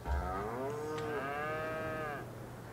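A cow moos in the cow barn in Farming Simulator 22, one long drawn-out call that rises and falls in pitch, close and clear over a soft steady background hum, with no talking.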